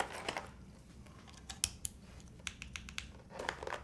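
Sharp, bright clicks of typing on a TKD Cycle7 mechanical keyboard, tapped in a loose, uneven rhythm with short bursts and pauses, close and fairly quiet.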